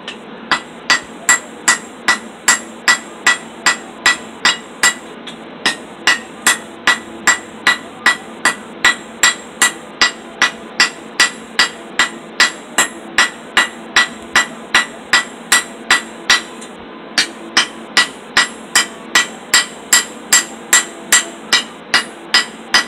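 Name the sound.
ball peen hammer striking metal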